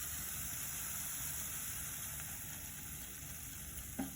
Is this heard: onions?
yes